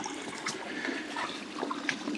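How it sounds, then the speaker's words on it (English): Cold water rushes and gurgles into a water filter bag held in a deep spot of an outdoor water source, a steady, close, continuous pour with no talking. "First thing I want to do is fill this bag, put some water in the bag."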